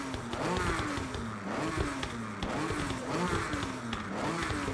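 A tuned car in the racing video game Forza Horizon 6 revs hard over and over, its engine note climbing and dropping in repeated sweeps, loud and close, with no talking over it.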